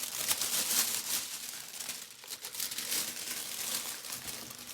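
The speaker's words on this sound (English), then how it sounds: "So we're just going to open up our shrink wrap paper." Shrink wrap paper being pulled open for rewrapping a trading card box, making continuous close crinkling and rustling with sharp crackly bursts throughout.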